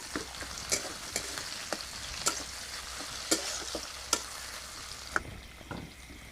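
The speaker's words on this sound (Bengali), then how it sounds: "তারপর দেবো পেঁয়াজ কুচি টমাটো টমেটো কুচি ভালো করে ভেজে নেবো" Chopped onion and tomato fry in a pan for a fish curry, a continuous close sizzle broken by regular sharp spatula scrapes and taps against the pan, with no voices.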